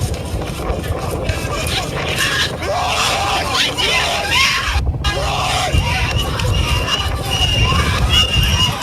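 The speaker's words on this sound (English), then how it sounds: "Listen to the idiot in the background still screaming" A man screaming somewhere behind a noisy, shouting crowd, his yells rising and falling through dense babble and cheering for several seconds.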